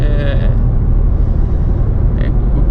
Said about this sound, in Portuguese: O nível de ruído desse carro, ele é bem baixo, tá?